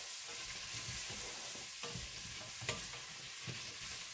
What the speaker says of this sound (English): I'm just going to get this sauteed up.